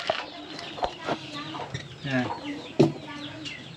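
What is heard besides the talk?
chickens clucking in a chicken coop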